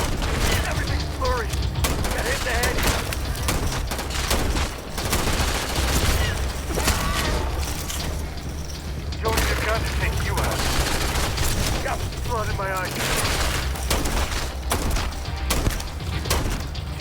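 Rapid bursts of weapon fire from the video game Starfield, repeated volleys with booming thuds running throughout, layered under talk and game sounds.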